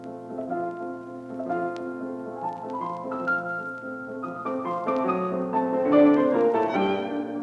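Development section of a piece in a recorded performance: sustained, melodic instrumental music with layered held tones, steady and moderately loud throughout, with no talking.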